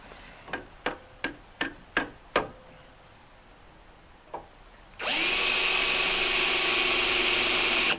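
Six sharp, evenly spaced clicks, a short pause, then a power drill whirs steadily at high speed until the end, drilling holes for a Biesemeyer table saw fence.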